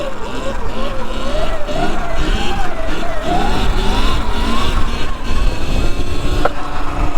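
A Surron X electric dirt bike held up in a wheelie outdoors, its motor giving a steady loud whine that rises and falls with the throttle under constant wind and tyre roar, close to the rider, with no talk.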